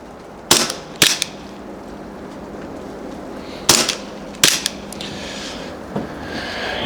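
A Novritsch SSP1 and a Glock 17 airsoft pistol fire alternately. Five sharp, close snapping shots come in uneven pairs over a steady background hiss.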